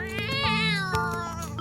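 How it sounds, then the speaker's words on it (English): A drawn-out, horrifying cat yowl rising and wavering in pitch, loud and close, with a second shorter cry breaking in near the end. "That is the most horrifying cat noise to come out since the movie Cats."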